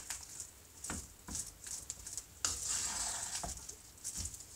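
Asian mashed potatoes stirred and mixed in a bowl or pot, soft scraping and patting sounds in irregular bursts, close but quiet.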